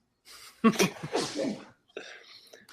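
A soft sneeze with a breathy buildup bursts out close by, followed by a short pause and some quiet breathy noise.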